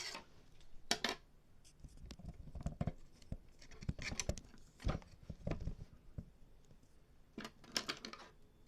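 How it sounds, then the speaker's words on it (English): Scissors trimming split ends of hair, soft irregular snips and crisp clicks in scattered short bursts, quiet and close-up against a near-silent background. "So I'm using these scissors"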